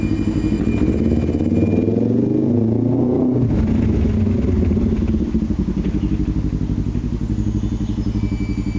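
A loud 1997 Kawasaki ER-500 motorcycle engine rumbles steadily nearby, its pitch rising as it accelerates, with no voices.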